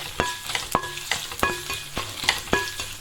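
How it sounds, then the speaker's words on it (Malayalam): Onion and dried red chillies frying in a pan over low flame, stirred with regular metallic scrapes and clinks over a constant close sizzle. "അപ്പോൾ ഫ്ലെയിം നമുക്ക് കുറച്ച് വെച്ച് തന്നെ ഇളക്കി കൊടുത്തുകൊണ്ടിരിക്കുക."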